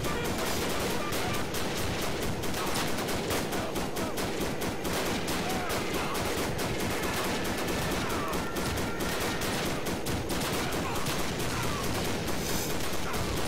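Continuous rapid gunfire and bursts of shooting in a World War One video game, loud and dense throughout with a muffled voice underneath.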